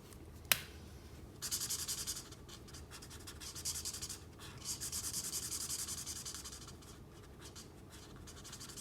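A pale pink marker colours a t-shirt on a drawing of Billie from Brawl Stars. Faint, close scratchy strokes come in repeated bursts after a single sharp click at the start.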